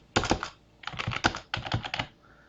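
Quick keystrokes on a computer keyboard as a command-line instruction is entered, coming in three clustered bursts of clicky taps with short pauses between them and no talking.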